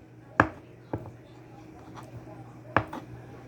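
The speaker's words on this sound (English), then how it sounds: "I just want to cut it up into like little cubes" A knife cuts butter into little cubes on a board, giving a few sharp separate chops, two louder and some softer taps, under a low steady hum.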